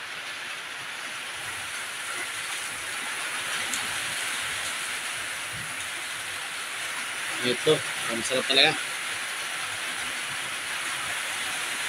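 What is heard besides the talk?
heavy rain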